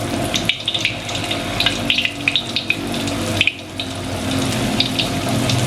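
Agar and white tofu snacks frying in hot oil, giving a steady sizzling hiss broken by irregular sharp crackles and pops, with no voices.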